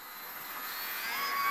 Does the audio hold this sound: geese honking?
no